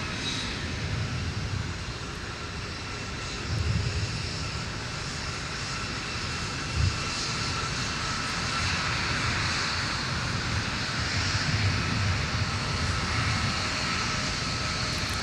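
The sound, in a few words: Southwest jet airplane taking off from runway 17 at MSP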